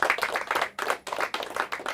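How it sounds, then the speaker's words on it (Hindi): Applause from the audience at a Hindi quiz competition final comes as short rhythmic bursts of clapping with brief dips between them, close and moderately loud, with no talking heard. "इनके लिए जोरदार तालियां हो जाए"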